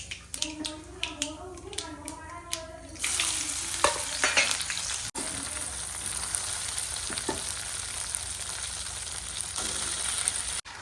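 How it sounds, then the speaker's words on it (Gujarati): A brief crackle of spices hitting hot oil to temper khichdi, then a loud, continuous sizzle of frying that settles into a steady hiss. "અમે અમારા માટે ખીચડી વઘારી રહી છું"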